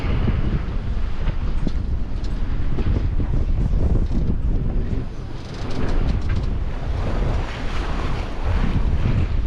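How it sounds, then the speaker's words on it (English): Waves slap side on against a sailing boat off Anglesey in a swell with wind up to 26 knots, a loud continuous rush of water and wind buffeting the microphone, with a brief lull midway. "Waves coming side on at the moment."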